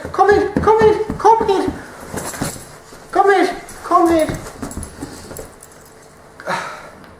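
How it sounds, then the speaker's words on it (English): A family dog whimpers in several short, high, whining bursts that come in clusters, close by, with a person talking around them. "this is the family dog"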